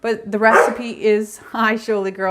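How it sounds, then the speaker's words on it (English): Dog barking and yipping indoors during a strawberry jam making session, several close barks mixed with whining, heard under and between a woman's speech. "that's my dog."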